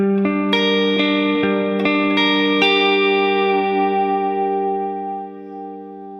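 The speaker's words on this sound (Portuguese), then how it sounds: "E agora eu vou ligar o reverb." An electric guitar through an Ampero One multi-effects unit with reverb switched on: a sequence of plucked notes building into a sustained chord that rings out with a lush reverb tail, loud and close with no talk.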